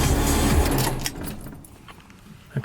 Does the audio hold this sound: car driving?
yes